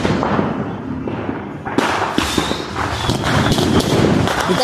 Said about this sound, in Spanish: Tronadera por todos lados.